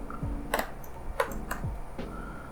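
Keys clack on a computer keyboard while a C program is typed, in a few quick bursts of clicks separated by short pauses, close and fairly quiet.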